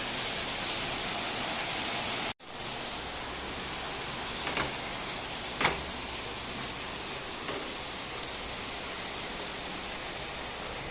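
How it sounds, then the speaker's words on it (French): Heavy evening rain falls in Phang Nga, Thailand, a dense continuous hiss close by, briefly cut off early on, with a couple of faint knocks and splashes in the downpour. "maintenant il pleut à torrent."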